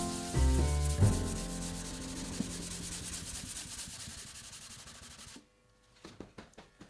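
A guitar finish being sanded by hand with a pad meant for a random orbital sander, producing steady close scratchy rubbing that runs continuously and then stops, followed by a few light taps and handling sounds.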